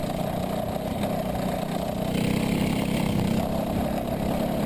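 Kart engine mounted beside the chain guard during a senior heat race, a steady loud mid-pitched drone that swells slightly as it revs, continuous and close throughout.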